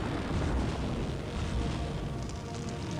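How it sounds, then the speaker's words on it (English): A plane exploding in the video game Full Throttle gives a dense, roaring rumble of blast noise that fills the whole span, loud and continuous without clear breaks. "like driving a bike out of an exploding plane"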